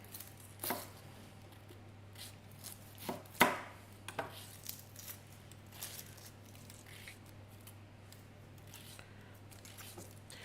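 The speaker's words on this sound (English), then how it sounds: "So you peel a parsnip" A parsnip is peeled by hand with a few faint, close scraping strokes. A couple of sharper scrapes stand out over a quiet kitchen background.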